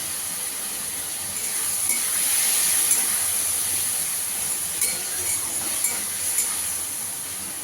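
Spice masala with Kashmiri chilli powder and a splash of water frying and being stirred in a pan for potol chingri, a steady close hiss and sizzle with a few light spoon clinks, no talk.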